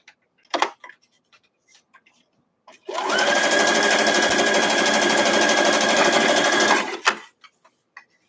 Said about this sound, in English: come over here and just sew them all